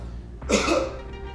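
A single short, sharp cough bursts out close and loud from a person during a push-up tutorial, then trails off into room tone.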